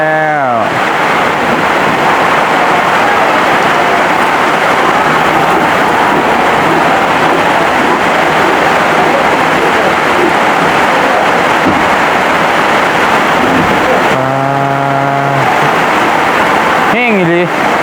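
Heavy, loud rain pouring steadily in a downpour, a dense continuous roar with wind-like rush, broken near the end by brief harmonic tones.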